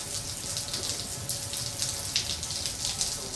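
Steady hiss of running shower water, a broad even spray with faint splashes, alone at moderate level without voices.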